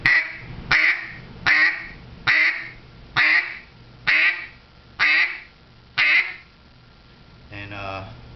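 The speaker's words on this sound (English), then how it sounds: "first thing we're going to start off doing with duck calling is just going to be your simple quack." A simple quack blown on a duck call, given as eight loud, evenly spaced quacks that sound close and clear. A short, fainter burst of fast rolling notes closes the sequence.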